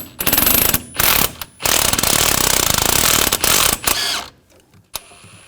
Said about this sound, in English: Now using a 15mm socket,